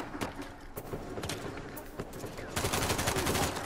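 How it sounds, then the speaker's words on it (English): Rapid gunfire from blind firing in Uncharted 4 multiplayer, a quick string of sharp shots with a denser burst near the end, fairly faint in the game mix. "Yeah, blind fire, why not?"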